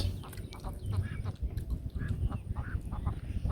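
Small ducks quack repeatedly at close range in short, scattered calls over a low, busy outdoor background.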